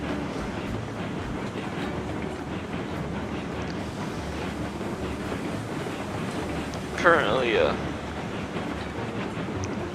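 A bigger, stronger locomotive pulls a slightly bigger train in Railroads Online, giving a steady rumbling, rattling drone with a brief higher squeal partway through, while a person talks briefly over it.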